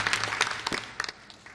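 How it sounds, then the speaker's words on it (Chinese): An audience at a Kaohsiung city council session claps to welcome visiting groups, a short burst of applause that is loud at first and then tapers off. "大家鼓掌欢迎哈"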